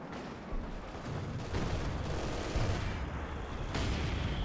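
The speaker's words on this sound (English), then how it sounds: "More Brit artillery" British artillery fires in a Company of Heroes 2 battle as a dense wash of distant booms and rumbling gunfire, continuous and moderately loud with no speech.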